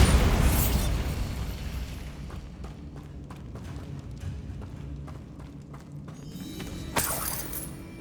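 A Bombarda spell blast in Hogwarts Legacy bursts loudly at the start, its roar decaying over a couple of seconds, followed by scattered debris clatter and a second sharp crack near the end.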